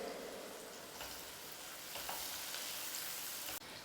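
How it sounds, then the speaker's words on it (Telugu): Onions frying with crushed garlic in a pan for a Guntur-style brinjal and dried fish curry, a steady close sizzle running throughout with faint stirring scrapes. "ఇవన్నీ కూడా బ్రౌన్ కలర్ వచ్చే వరకు వేయించుకోవాలి"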